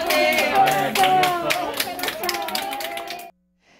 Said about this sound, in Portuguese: Após 21 dias internado, também foi aplaudido por vencer a doença